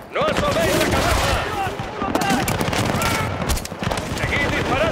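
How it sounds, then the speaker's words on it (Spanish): Dense gunfire from the Battlefield Bad Company video game fills the scene, loud continuous bursts and automatic fire with shouting voices underneath throughout. "¡Seguid disparando!"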